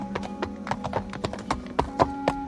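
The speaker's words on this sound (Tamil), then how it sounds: "குதிரை குளம்படியின் சத்தம் கேட்டது" Horse hoofbeats on the ground, a close, steady clip-clop of sharp knocks that grows a bit louder toward the end, with no voice over it.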